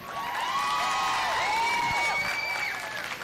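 A crowd at the Cache County Fair junior livestock showcase cheers and applauds, with sustained clapping under sliding whoops and whistles, loud and continuous throughout.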